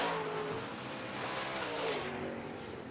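Late model stock cars roaring around an oval track during a feature race, engines droning loudly and continuously with a rising and falling pitch as the pack passes.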